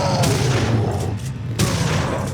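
Gunfire in the video game Dead Island: Riptide comes as two heavy, booming bursts with echoing tails, close and loud, separated by a short lull.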